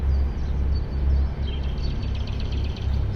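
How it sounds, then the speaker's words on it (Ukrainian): Outdoors at the marble Beylerbeyi Palace in Istanbul, birds chirp faintly in the distance, thin high calls half-buried under a steady low rumble of wind or traffic. "Як пташки співають класно."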